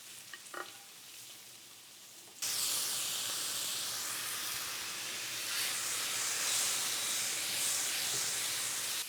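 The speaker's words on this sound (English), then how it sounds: "While the steak continues to cook" Steak sears in a hot pan with a steady, close hissing sizzle that starts abruptly and holds evenly, preceded by faint kitchen sounds.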